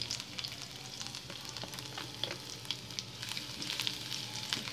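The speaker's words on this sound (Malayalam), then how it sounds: "കുറച്ച് വെളുത്തുള്ളി ചെറുതായിട്ട് അരിഞ്ഞതാണ് ഇവിടെ ചേർത്ത് കൊടുക്കുന്നത്" Finely chopped garlic sizzles in olive oil for white sauce pasta: a continuous crackling fry with scattered pops, fairly quiet and steady throughout, no voices.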